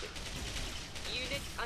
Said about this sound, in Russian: По нам танк палит, а мы как-то не реагируем на это